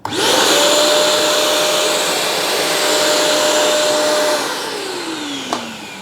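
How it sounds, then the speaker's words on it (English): A Vacmaster Multi 20 PTO wet and dry vacuum cleaner runs loud and steady with a high whine for about four seconds, then its motor winds down after switch-off with a brief knock near the end. "So this vacuum is super versatile, both for wet and dry use."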